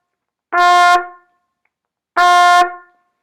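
A wind instrument sounds a short tut note twice, each a clipped tone with a hard attack that is held under a second and then cut off, with silence before, between and after.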